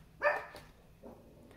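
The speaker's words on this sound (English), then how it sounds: "There's a dog in the neighborhood barking somewhere." A single short dog bark from somewhere in the neighborhood, faint and distant in a quiet indoor room, followed by a softer yip about a second later.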